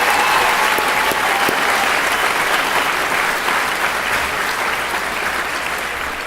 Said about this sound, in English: if you would please give a round of applause for all of the speakers tonight